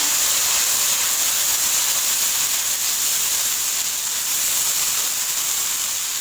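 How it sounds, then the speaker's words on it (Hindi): Green chili and tomato paste sizzles in a hot pan while cooking biryani, a steady, loud frying hiss that holds evenly throughout with no voices. "हरी मिर्च और टमाटर का जो है मैंने पेस्ट बनाया है। अब उसका पेस्ट जो है वो मैं इसमें ऐड कर लूँगी।"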